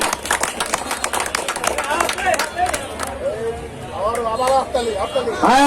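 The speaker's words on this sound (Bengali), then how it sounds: "করতালির মাধ্যমে সকলকে অভিনন্দন জানাই" Scattered clapping from a crowd at a boat race, mixed with chatter and a loudspeaker voice talking over it.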